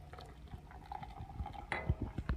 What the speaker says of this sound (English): As it's pouring, it's got a nice head to it.